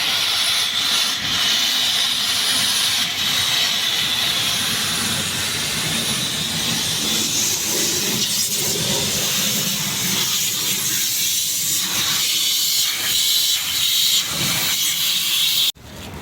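Loud, steady rushing hiss of air and fluid forced through the internal air-conditioning system of a 2011 Toyota Camry Hybrid during a flush, continuous for the whole stretch before cutting off abruptly near the end.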